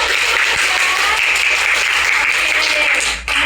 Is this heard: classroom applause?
yes